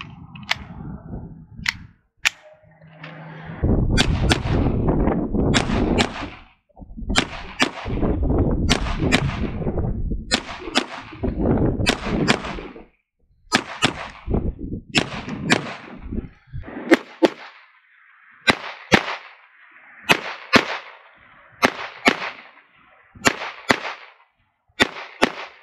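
Pistol shots are fired at targets while testing an ADE Advanced Optics Zantitium RD3-015 red dot sight, sharp cracks ringing out outdoors, first in spaced singles, then in quick strings, with talk between volleys.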